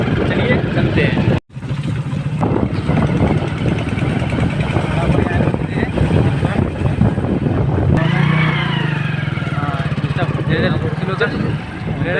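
Sudhakar rides a motorbike carrying three people, the engine droning steadily up close under loud wind rush for nearly the whole stretch, with voices talking over it.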